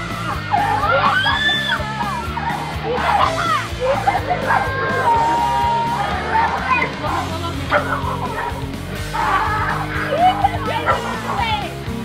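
Dog barking and yelping during a crocodile attack, with frantic high yips and whimpers repeating over several seconds, mixed with people shouting and screaming nearby.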